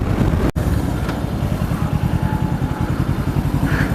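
A 500cc motorcycle engine revs loudly and close by, a steady throbbing rumble with rhythmic pulses and a sharp break early on, no talking over it.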